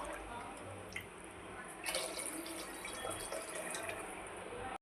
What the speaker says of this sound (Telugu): ఇప్పుడు దీనిలో వాటర్ యాడ్ చేసుకోవాలన్నమాట. అంటే నేను 2 గ్లాసులు తీసుకున్నా కాబట్టి నేను 3 గ్లాసులు పోస్తున్నా.